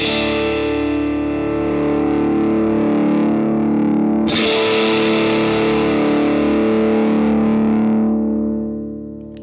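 A distorted electric guitar chord rings out loud and sustained, then a second bright, crisp strum follows and slowly fades away.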